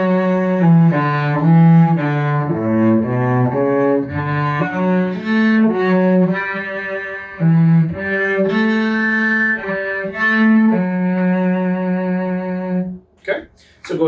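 Two cellos play a duet passage of Joy to the World, measures 21-28, in a steady sequence of sustained bowed notes, close and loud, ending with a brief pause and a few knocks.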